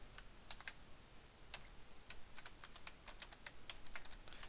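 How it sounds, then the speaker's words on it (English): Quick, light clicks come from a computer keyboard as someone types into an Excel spreadsheet, in a brisk irregular run of keystrokes, faint and close over a soft hiss, with no voices. "now I'm going to type mean tab."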